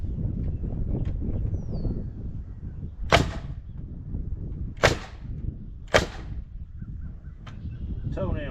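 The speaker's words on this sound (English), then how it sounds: "Nail gun." A nail gun fires into wood while framing a run-in shelter, giving three sharp, loud cracks spaced over several seconds above a steady background rumble.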